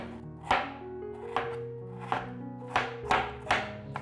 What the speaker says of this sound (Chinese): 把花椰菜切碎